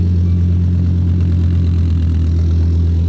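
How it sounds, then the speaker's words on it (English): A Lamborghini Aventador SVJ engine idles loudly nearby, a steady deep grumble with a low throbbing pulse. "There's that deep grumble."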